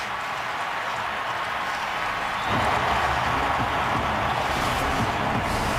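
A stadium crowd roars at a Jets vs Cowboys NFL football game after a defensive stop, a broad steady wash of cheering that swells partway through and stays loud.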